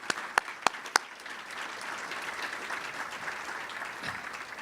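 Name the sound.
applause for first responders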